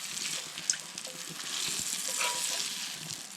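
Trout frying in a pan, a steady close sizzle with faint pops and crackles throughout and no voices.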